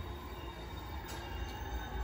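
The limited express train Kusatsu arriving at Urawa Station rumbles steadily through with a dense, continuous roar and faint high metallic squealing from the wheels, sounding close and sustained.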